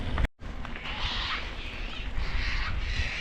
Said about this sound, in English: That noise is just a little white parrot.